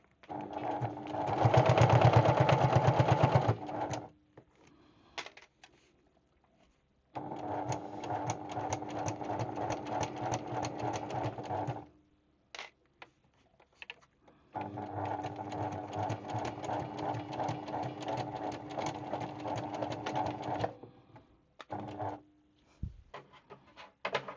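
A Baby Lock Hagane sewing machine stitching a vinyl gusset, with three long runs of rapid, steady needle chatter separated by quiet pauses and a few short bursts.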